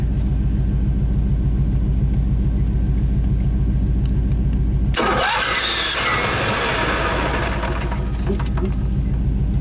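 A motorhome engine with a carburetor cranks steadily, then catches into a loud rough rumble as the throttle is worked, sputtering and rising briefly before settling back, heard close up with no talking.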